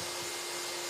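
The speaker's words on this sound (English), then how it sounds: "start the extractor" A dust extractor for a Mafell saw runs with a steady, loud, close whooshing roar and a constant tonal hum, unbroken for the whole moment.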